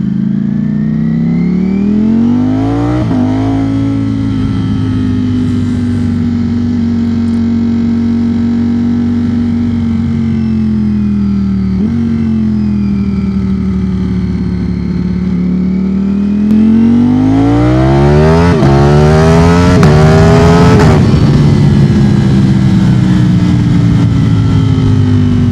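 A Ducati Streetfighter V4 motorcycle engine drones loudly while riding, pitch rising and falling through gears with a strong rev climb near the end, close and continuous with no talk.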